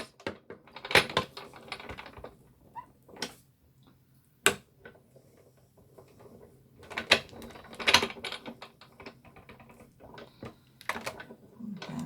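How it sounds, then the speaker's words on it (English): Sizzix Big Shot Plus die cutting machine being cranked: bursts of close mechanical ratcheting and clicking clatter, separated by quieter pauses and a couple of sharp knocks. "And now I just roll it through my die cutting machine, which is a Sizzix Big Shot"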